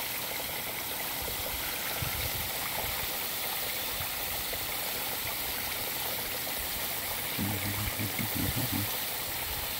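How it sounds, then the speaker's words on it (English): Garden water spraying steadily over a roof skylight to test for a leak, a continuous hiss and patter with no pauses; a faint low hum joins briefly near the end. "Put this on pause, let this sit a little while so you don't have to watch me water the skylight."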